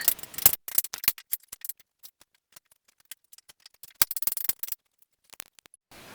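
Dried odiyal, palmyra root, being cut into small pieces: quick clusters of crisp, dry snips and clicks with quiet gaps between bursts, close up and with no talk.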